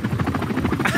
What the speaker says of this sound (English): Yeah, there's a helicopter outside.